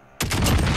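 A single sniper rifle shot in Modern Warfare Warzone cracks loud and sudden out of near silence, then booms and rolls on with a sustained echoing tail.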